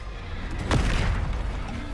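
A Bombarda spell explosion in Hogwarts Legacy bursts with a sudden muffled boom and rumble that fades over about a second.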